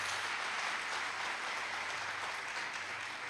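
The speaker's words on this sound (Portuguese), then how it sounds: "dá um aplauso a gente" Congregation applause in a church, a steady wash of many clapping hands, fairly loud and continuous with no one talking over it.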